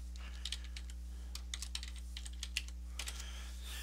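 Fingers type on a computer keyboard to enter an address into a browser, a quick irregular run of close, crisp key clicks over a low steady electrical hum.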